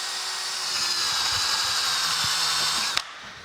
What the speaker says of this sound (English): got a little wheel on a drill here